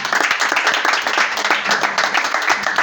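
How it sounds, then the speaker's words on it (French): A church congregation claps and applauds in a dense, sustained burst of many hands, close and loud throughout, with faint voices mixed in. "Acclame la parole."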